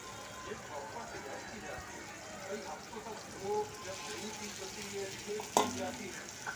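Onions go into hot oil in a pan and fry with a steady, busy sizzle, with stirring scrapes and a sharp clink near the end, close and moderately loud.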